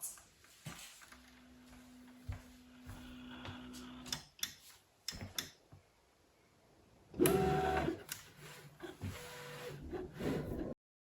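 A Loklik cutting machine runs as it cuts heat transfer vinyl, giving a close mechanical whir with a steady motor tone, intermittent ticks and clicks, and a louder burst of carriage movement near the end.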